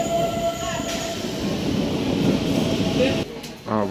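An Asansol-Bardhaman local train pulls into Andal station, a loud rolling rumble of wagons with squealing wheels and a brief high screech near the end, heard close by.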